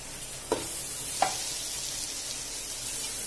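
Vegetable pulao with garam masala and salt stirred in a hot pan: a steady close sizzle under two sharp spoon scrapes early on, then a continuous hiss with no voices.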